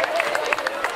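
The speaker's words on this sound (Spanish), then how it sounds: "Un aplauso." Applause from a crowd at a village fair's sash presentation, a short burst of scattered, irregular clapping with a steady tone and murmur beneath.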